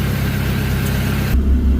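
A car engine idles with its air conditioning compressor clutch engaged and running, a close, steady mechanical hum and whir that shifts to a lower, duller drone near the end.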